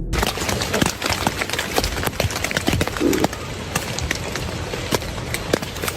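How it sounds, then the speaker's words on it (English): Footsteps crunch outside a tent at night, a run of irregular sharp impacts and scuffs close by against a rustling background, fairly loud, with no speech. "the sound of footsteps outside his tent jolts him awake"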